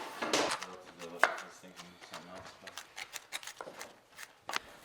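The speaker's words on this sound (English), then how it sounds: "Chop some tomato." Tomato being chopped with a knife on a small cutting board: a quick series of close, crisp knife taps in an irregular rhythm, with brief murmurs of a voice between strokes.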